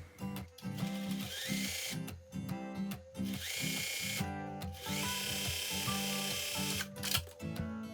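A sewing machine runs in repeated short bursts while stitching the crotch seam of a garment, its motor whirring loud and close in stop-start runs of one to two seconds, with no talk.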